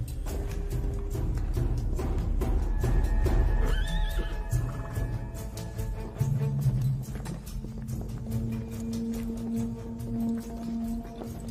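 A horse standing by a carriage whinnies loudly, a long rising-and-falling neigh near the start, with hoof clops, snorts and tack noise following close by.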